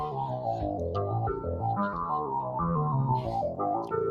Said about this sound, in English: That's the sound you're hearing from the 2600